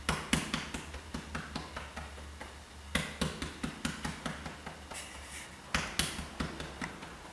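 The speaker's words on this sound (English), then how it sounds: "Patting down the sternum." Hands pat the chest over the sternum during a self-massage, making a steady run of soft, quick thumps at about three per second, close and clear, with no talking.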